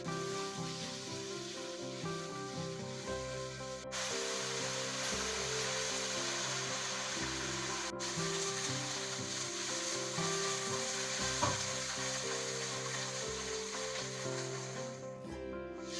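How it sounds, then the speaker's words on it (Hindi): Onions fry in two tablespoons of cooking oil in a kadai until golden, giving a continuous soft sizzle beneath steady background music, with no talking. "प्याज को गोल्डन होने तक फ्राई करेंगे।"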